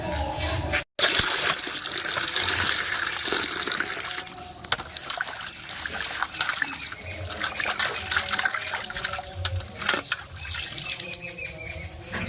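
Running water splashes and trickles while fish are rinsed clean, an irregular wet patter with scattered small knocks and drips, close by and without speech.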